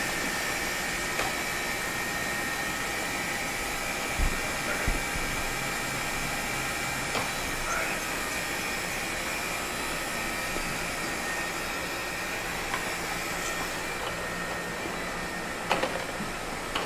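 An industrial robotic vacuum cleaner for carpets runs with a steady, even whirring hum and high whine. It is constant throughout, with a few faint knocks, no speech, in an indoor coworking setting.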